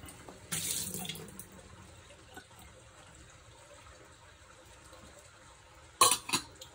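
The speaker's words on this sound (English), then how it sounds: "I'm going to wet the filter." A short splash of water poured over a Kalita pourover coffee filter, a brief hissing trickle followed by a quiet pause, then a few light clinks of kitchenware near the end, all close and fairly soft.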